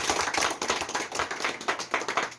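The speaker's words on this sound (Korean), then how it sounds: "우리 다 함께 박수로 감사의 표시를 하겠습니다" A small group claps hands together in thanks at a Korean Marine Corps gathering, a quick, uneven patter of claps with pulsing rhythm, fairly close and moderately loud, with no talking.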